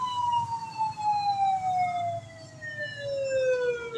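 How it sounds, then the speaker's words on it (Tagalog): An emergency vehicle siren wails outside in a slow descending sweep, moderately loud and carrying from a short distance, with low traffic rumble beneath and no talking. "ito lang ata yung review na may kasamang wangwang"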